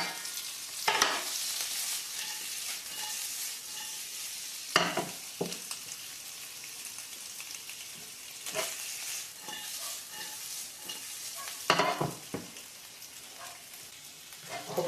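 Pasta with artichokes, olives and lemon is stirred in a frying pan, a faint sizzle broken by several louder clattering strokes of the utensil at irregular intervals.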